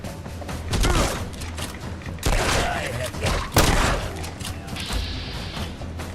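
Shotgun blasts in the Fallout London game, three or four heavy booming shots spaced a second or so apart, loud and close, with mechanical clatter and game effects between them.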